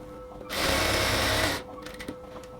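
A sewing machine runs a lock stitch along dress fabric for a women's XL top in one steady, close, whirring burst of about a second, then stops, leaving quiet room noise and a light click.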